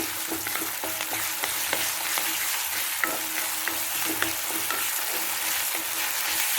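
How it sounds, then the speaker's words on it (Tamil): Onion and ginger-garlic paste sauté together in a pan, with a constant close sizzle and scattered clicks of a spatula stirring and scraping, and no one speaking. "இஞ்சி பூண்டு பேஸ்ட்டும் போட்டுக்கணும். அதுவும் வெங்காயத்தோட சேர்ந்து நல்லா வதங்கணும்."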